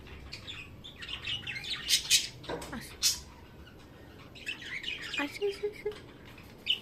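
A pet bird chirps and squawks in sharp, scattered bursts close at hand, mixed with a couple of louder harsh squawks while a person talks to it nearby.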